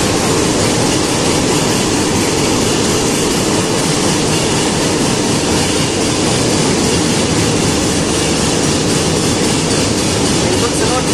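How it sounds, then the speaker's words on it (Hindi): Garib Rath Express passenger train rolling slowly through a newly built tunnel, a loud, steady enclosed rumble of wheels and carriage noise that fills the whole stretch without letting up. "बिल्कुल स्लो ट्रेन चल रही है। ये नई सुरंग बनी है, फिर भी ये स्लो ट्रेन चल रही है।"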